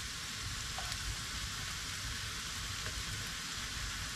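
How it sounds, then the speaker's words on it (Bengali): Raisins fry in a pan for carrot halwa, giving a soft, steady sizzle with light crackling, fairly faint and uninterrupted. "কিসমিসগুলো ভাজা হয়ে যাচ্ছে।"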